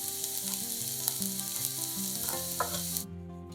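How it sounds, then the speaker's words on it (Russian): Onion sizzles steadily in a little vegetable oil in a hot frying pan, a bright close crackle over soft background music, stopping abruptly near the end. "Подготовленный лук кладем на горячую сковороду с небольшим количеством растительного масла."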